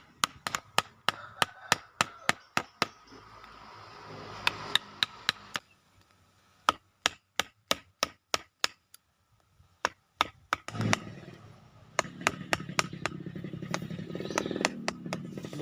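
Chisel trimming Indian waru bonsai wood, heard as a rapid series of sharp, close tapping strikes in quick regular bursts, separated by brief pauses and faint background noise.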